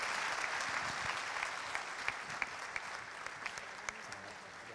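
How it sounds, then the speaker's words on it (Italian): An audience claps steadily through an opening night event for FIP Veneto, a dense sustained wash of applause with a few sharper individual claps standing out near the front. "complimenti ancora, un grande applauso"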